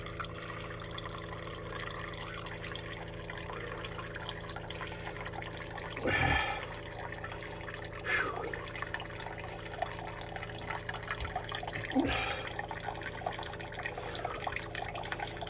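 Water drains steadily out of water lines through an open drain during winterizing, a constant close trickling and rushing with a few louder gurgling bursts and no speech.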